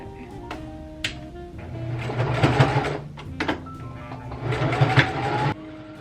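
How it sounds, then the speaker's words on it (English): A sewing machine stitches a colorful fabric birthday banner, running close by in two long whirring bursts with short pauses and light clicks between them. "Now we're just gonna sew them."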